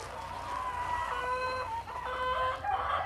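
Egg-laying hens cluck and squawk steadily in a farm coop, a dense flock chorus heard close with no talking.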